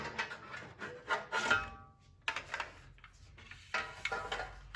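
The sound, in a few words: sliding out the outer enclosure of a Hikvision DVR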